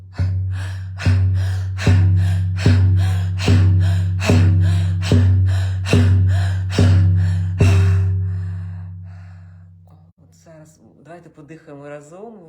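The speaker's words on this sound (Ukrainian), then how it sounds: "а зараз дихання стає частіше, частіше і потужніше" Holotropic breathing session with a frame drum: about nine steady, evenly spaced drum beats over a sustained low droning tone, then the beats stop and a fainter warbling sound trails off.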